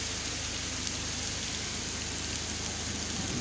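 Steady rain falls in a broad, even hiss that fills the whole stretch, with a low hum beneath and no voices.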